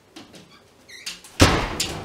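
A dog pushes a door shut indoors, with light scuffling and a soft thud or two before a loud, sharp slam near the end, close by and otherwise quiet.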